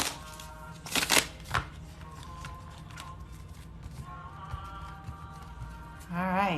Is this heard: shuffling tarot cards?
yes